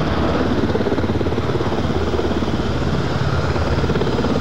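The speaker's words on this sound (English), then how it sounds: "just the sight of these helicopters coming in" Marine One helicopters come in to land at Regis during World Youth Day 1993, a loud, steady rotor thump and turbine roar that fills the whole stretch with no voices.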